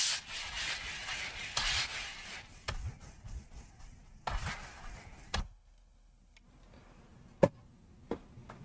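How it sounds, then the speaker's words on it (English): Steady rubbing strokes of sandpaper scraping over a gesso and matte medium layer on a canvas, continuous at first, then a few short isolated scrapes and taps after a pause. "we're going to start sanding."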